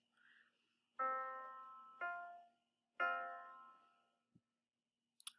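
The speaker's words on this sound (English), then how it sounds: "perfect fourth sounds like this" Three distinct plucked or struck notes ring out one after another and decay, forming a perfect fourth interval, followed by a faint click.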